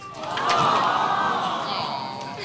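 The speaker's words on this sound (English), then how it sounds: "I love when the crowd moans for correct answers." A game show studio audience lets out a long, loud collective moan that swells and slowly fades, broad crowd voices blended together.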